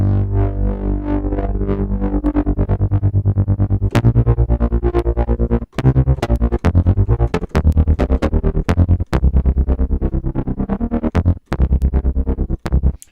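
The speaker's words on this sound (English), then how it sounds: "So then we have tremolo." A sustained, distorted tone from the BLEASS Alpha polyphonic synthesizer pulses with a fast, even tremolo wobble, loud and continuous, with occasional clicks between notes.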